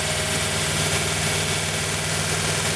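A 1940 Buick straight-eight engine idles just after its first start in 30 years, smoking and squirting oil. Its steady, dense rumble holds evenly throughout, close and fairly loud, with no talking.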